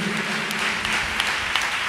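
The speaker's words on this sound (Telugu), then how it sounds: "చప్పట్లు అంటే గట్టిగా బిగ్గరగా చప్పట్లు కొట్టి ప్రభుని స్తుతించారు" A church congregation at a blessing meeting claps loudly together in praise, a dense steady wash of hands lasting throughout with no pauses.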